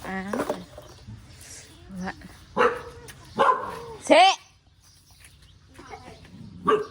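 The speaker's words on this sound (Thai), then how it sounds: "มันเห่าตัวนะ" A dog barks several times in short sharp bursts at close range, with people talking around and between the barks.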